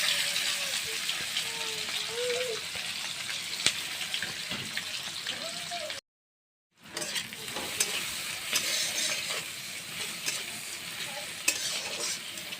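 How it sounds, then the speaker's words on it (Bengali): Chopped onion and a few pieces of garlic fry steadily in hot oil, a continuous broadband sizzle with occasional stirring scrapes, briefly cut by a short silent gap; a voice speaks faintly in the background. "তেলে ভেজে নিচ্ছি।"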